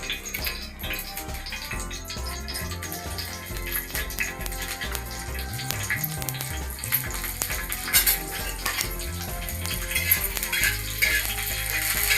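Green chillies for ambadi chutney hit a hot pan and fry with a continuous crackling sizzle, joined by clinks and scraping of a utensil against the metal, close and busy throughout with no talking.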